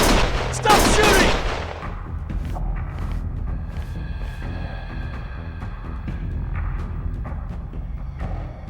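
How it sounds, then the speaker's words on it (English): Gunfire in the video game Lost Judgment: a loud, dense burst of shots near the start, then quieter scattered pops and mechanical clanks over a rumbling background. "Stop shooting!"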